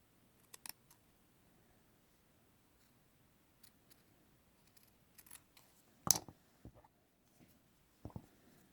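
Scissors snip through lace dress fabric in a few separate short cuts, clustered near the end, against an otherwise quiet background.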